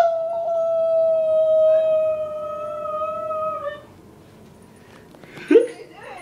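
A dog howls in one long, sustained, wavering note for several seconds that fades out, followed by quiet and a brief sharp yelp or vocal burst near the end.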